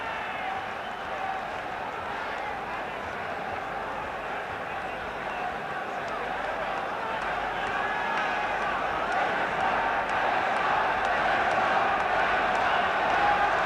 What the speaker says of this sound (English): stamping their feet and cheering these two on into the final 3 minutes